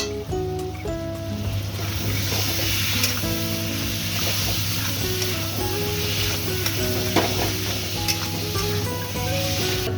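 Ground white and black mustard seed with poppy seed paste frying in a pan for a Bengali fish dish, heard as a loud, continuous sizzle with stirring scrapes and faint clinks, no talking over it.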